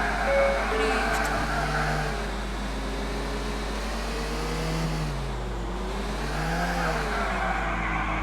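A car engine drones and revs through drifting in GTA IV, rising and falling in pitch under a constant low hum, with game sounds layered over it.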